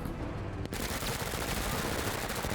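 Sustained, dense gunfire from the sci-fi turn-based tactics game Menace, loud and continuous, with overlapping rapid shots filling the whole moment after a brief dip at the start.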